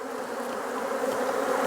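Honeybees buzzing in a dense, steady drone after being sharply tapped off a hive frame during a hive inspection, close and loud, with the swarm noise swelling slightly over time.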